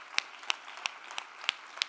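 A congregation claps in a church service, six sharp, spaced hand claps ringing out at a steady slow rhythm, fairly close and moderately loud, with quiet room noise between them.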